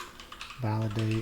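Typing on a computer keyboard while entering code, with a few soft, quick key clicks near the start before a loud spoken voice takes over for the rest.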